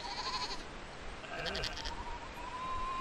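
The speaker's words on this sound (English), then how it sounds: "the sheep are really getting attacked by the midges because they seem to be making a lot of noise now" A sheep bleats once on a hillside on the Isle of Mull, a wavering call rising over quiet outdoor background, with a faint distant bleat earlier.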